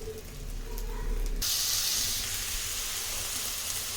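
Food frying in hot oil in a home kitchen gives a soft, steady sizzling hiss that starts abruptly partway in and continues evenly, fairly quiet and close.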